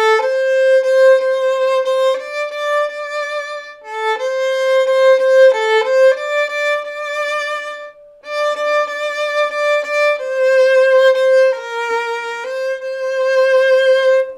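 A solo violin plays a melody in clean, sustained phrases separated by brief pauses, each note held smoothly with a bright tone.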